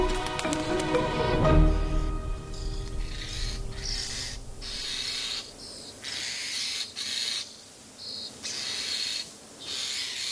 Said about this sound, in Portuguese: o piar constante de algumas crias faz os progenitores andarem num vai e vem constante para acalmar o seu apetite voraz